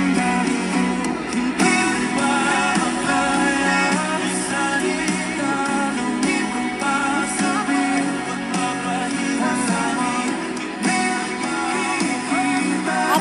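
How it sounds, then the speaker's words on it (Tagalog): Full-band music with steady beat and dense harmonic layers plays continuously from a V8 RGB Bluetooth speaker, loud and close with no talk over it. "Yun na nga po yung kanyang sound quality guys at maririnig nyo na hindi basag yung tunog ng speaker"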